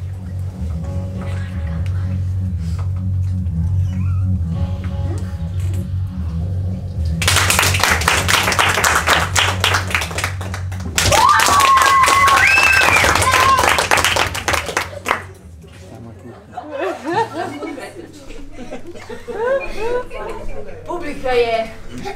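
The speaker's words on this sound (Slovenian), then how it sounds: "Nad tistim, kjer dvignam roko, zaploskajte, če želite," A theatre audience at an improv comedy show claps to vote a performer off the stage, two bursts of loud, dense applause after a host speaks, then the host's voice returns alone.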